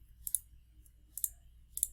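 Three crisp computer mouse clicks at a steady interval of about one second, close and distinct over a quiet background.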